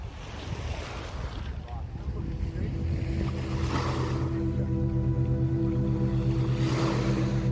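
A cruise boat near Flowerpot Island rumbles steadily as it moves across open water, its engine drone mixed with wind buffeting the microphone and the rush of waves.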